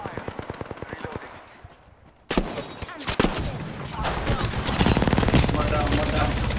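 Rapid automatic gunfire in Apex Legends rattles in fast bursts, then swells into dense, loud overlapping shooting from several weapons at close range.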